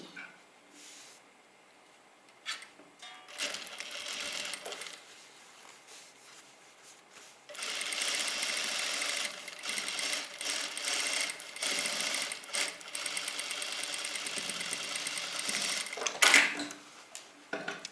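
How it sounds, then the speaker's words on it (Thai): Sewing machine stitching along the existing seam line of a trouser waistband, a steady close whirring hum that starts softly, then runs louder and continuously for about ten seconds before stopping, with no talking. "เราจะเย็บต่อจากขอบเดิมของเขานะคะ ต่อจากเส้นเดิมเลย"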